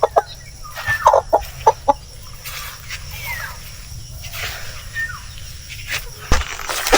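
Native chickens cluck and squawk nearby in a farmyard, with several loud, short calls early on, then softer scattered clucks over a low steady background hum.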